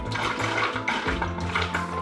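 Coolant mixture tipped out of a car radiator during a flush, a steady watery gush and splash that runs continuously for about two seconds, close up with no talking.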